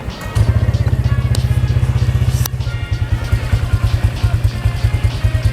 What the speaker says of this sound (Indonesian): Ini pas suaranya idle, kita gas dikit.